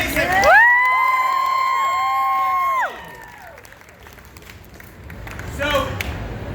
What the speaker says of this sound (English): I don't know if that was a big enough round of applause.